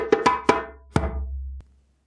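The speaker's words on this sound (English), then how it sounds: "So the break for Lamba sounds like this." Djembe plays the Lamban rhythm break: three quick sharp slaps in even succession, a pause, then a fourth ringing stroke with a deeper resonant tail, played alone and close.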